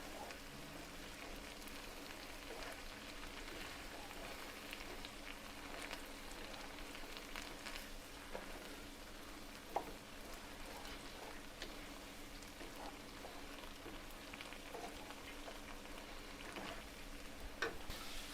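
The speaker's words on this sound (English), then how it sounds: "you hear some sizzling all of a sudden, that's my duck" Duck sizzles and spits in a hot pan, a steady close crackle of frying with scattered sharper pops throughout.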